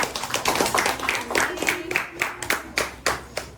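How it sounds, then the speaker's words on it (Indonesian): A short burst of applause from a small group of students in a classroom, with uneven claps rising and tapering off quickly. "tepuk tangan untuk kelompok 4."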